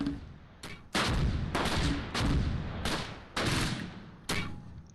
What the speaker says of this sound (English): Let's wait for that first mortar barrage to drop before we engage them.